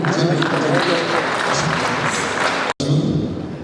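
A crowd applauds at a local election event, with sustained loud clapping that cuts out briefly near the end before resuming, and a voice mixed faintly into the noise.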